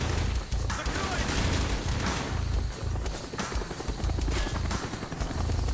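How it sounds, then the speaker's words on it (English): Helicopters roaring in a Call of Duty Black Ops battle amid dense, continuous heavy gunfire and bursts, loud and close, filling the whole stretch with a constant rumbling din. "We're taking heavy fire from the helicopters!"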